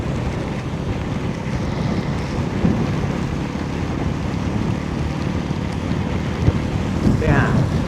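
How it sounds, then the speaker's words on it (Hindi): Heavy monsoon rain and wind roar steadily around a rider on a 1300 GS motorcycle in the Malshej Ghat, a dense continuous wash of noise with brief gusts buffeting the microphone near the end. "इतना बारिश है अभी।"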